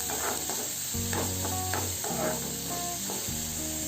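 Onion, green chili and curry leaves sauté over medium flame in a pan for egg paniyaram, giving a steady close sizzle with scraping stirring strokes throughout.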